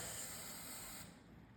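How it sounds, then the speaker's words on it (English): Aerosol carburetor cleaner hisses in a steady, close spray into the carburetor of a Craftsman snowblower, cutting off after about a second to leave a faint tail. "Spray it in there again, clean it out."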